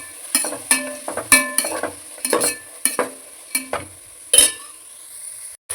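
Ginger garlic paste sautéing in a pan for chicken biryani, with a run of brisk spoon scrapes and clinks against the pan over a light sizzle, close and unaccompanied by speech.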